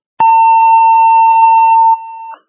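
A fire dispatch alert tone for a fourth alarm sounds loud and clean: a sharp click, then a steady two-tone sustained beep that drops to a single tone before cutting off.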